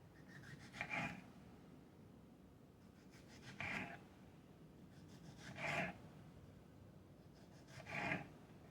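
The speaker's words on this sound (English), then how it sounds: "Let's slice the tomatoes. And I'm going to do thin slices." A knife cuts thin slices from fresh tomatoes, giving four soft, separate rasping strokes spaced about two seconds apart. The cuts are faint and close, and nobody speaks.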